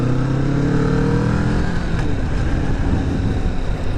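A 2023 Kawasaki Vulcan S sport cruiser motorcycle accelerates under throttle. The engine note is loud and close, rising steadily in pitch over several seconds, and no one is speaking.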